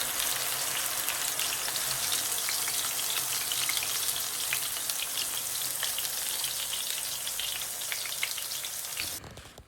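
Ground onion and green chili paste frying in hot oil for a crab curry, a dense crackling sizzle like rain that holds steady, then cuts off abruptly near the end.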